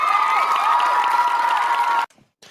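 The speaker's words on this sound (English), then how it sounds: "round of applause. I appreciate it." Audience applause at a live talk, a dense sustained clatter of clapping that stops abruptly, followed by a short silence and a faint resumption.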